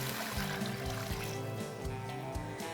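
Water poured over a meaty ham hock and carrot in a pot for pea and ham soup, a close, steady trickling stream with a continuous low rumble, heard alone without talk.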